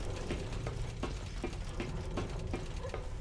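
Rapid, regular mechanical clicking and skittering under a dense rumbling ambience, a creature crawling around nearby in Resident Evil 6.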